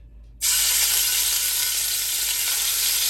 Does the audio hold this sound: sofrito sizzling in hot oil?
yes